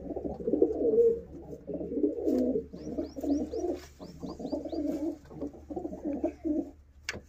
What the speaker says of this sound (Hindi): ਬਹੁਤ ਚੰਗਾ ਕਬੂਤਰ ਹੈ, ਜਮਾਂ ਹੱਡੀ ਜੋੜ ਬੰਨ੍ਹਦਾ।